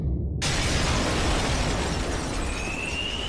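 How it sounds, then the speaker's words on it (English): In the Minecraft video game, a glass window breaks with a sudden loud crash, then a sustained, dense noisy roar of shattering that keeps going for a few seconds, with no speech over it. "The glass window's all shattered!"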